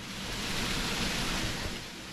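Steady broadband roar of water falling at Ungye waterfall, heard from close by, fairly faint and unbroken with no voices.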